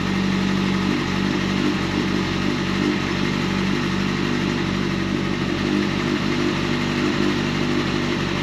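A Kawasaki ZX-10R sport motorcycle runs outdoors during warm-up after valve clearance work, its engine holding a steady, loud, close-up idle with a constant mechanical clatter throughout and no talking.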